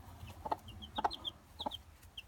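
A broody hen clucks in repeated low bursts while high chick cheeps come through between and over them, close by with a quiet background.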